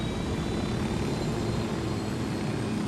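A helicopter in the video game Ghost Recon Wildlands gives a steady, loud rotor and engine drone that never changes, with no talking.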